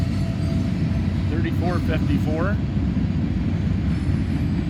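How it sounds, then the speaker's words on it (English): A long, heavy CSX freight train of covered hoppers with a mid-train helper locomotive rolls past in Greenwich, making a steady, loud, even rumble throughout while a voice speaks briefly partway through. "So there's a mid-train helper here"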